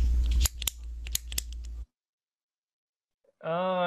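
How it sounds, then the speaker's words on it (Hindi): A quick series of sharp little pen clicks over a low hum, then a moment of silence before a voice begins. "ये टाइपिंग नहीं था, ये पेन का क्लिक था"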